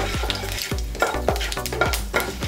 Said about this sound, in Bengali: এবার আমরা তেলে ফোড়ন দিয়ে দিই তেজপাতা